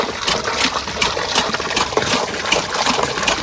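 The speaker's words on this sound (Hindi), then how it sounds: "और ये रहा जी इस हैंड पंप का पहला पानी।" Water splashes and gushes from a newly installed hand pump, a steady noisy spatter with rhythmic surges as the handle is worked, close and fairly loud with no talking.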